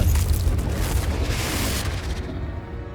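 A fiery Confringo spell explosion in the Hogwarts Legacy video game: a loud, deep booming blast with a long rumbling tail that fades over a few seconds, with no talking.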